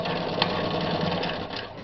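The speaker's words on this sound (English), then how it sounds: "This is not a lightweight sewing machine." A heavy Japanese-made Riccar sewing machine runs steadily while stitching in reverse, giving a dense, continuous mechanical whir with a fast rhythmic stitching chatter, close and fairly loud throughout.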